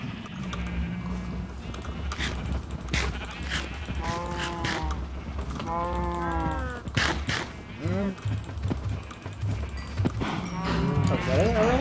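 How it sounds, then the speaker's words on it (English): Blocky farm cows in Minecraft give repeated low moos that overlap and come in clusters at mid distance, with a steady game backdrop and a person talking over parts of it. "we got all the cows"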